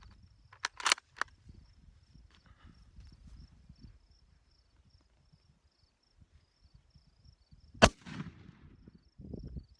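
Shots from a rifle firing Yugoslavian M49 surplus 8mm ammunition made in 1978: a quick cluster of sharp, loud cracks near the start, a long quiet stretch, then one more sharp shot near the end.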